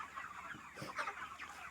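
Poultry farm hens murmur and cluck in a dense, steady chorus, with a few sharper calls rising briefly above the low background of the flock.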